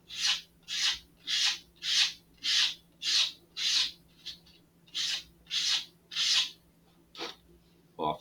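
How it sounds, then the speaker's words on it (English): Rhythmic rasping strokes of a sanding block rolled over the edge of a balsa wood part for an Estes Antar model rocket, about a dozen close, regular passes under a low steady hum. "the easiest way to do it is to just roll the sanding block over the edge that you want to round"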